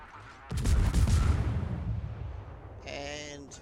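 Naval gun salvos from the warship Smolensk in a naval battle game, a heavy booming burst of cannon fire with a long rumbling tail, followed by a fainter second round near the end.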